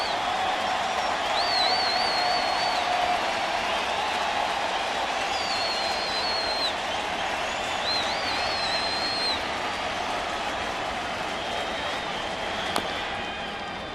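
A large baseball stadium crowd at a St. Louis home game against Cincinnati keeps up a steady, loud roar of cheering and clapping for the whole stretch, with a few whistles rising above it.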